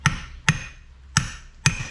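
A hammer strikes a cap on a Toyota 4Runner Tacoma 8-inch differential: four sharp metallic blows spaced unevenly, close and clear, with no talk.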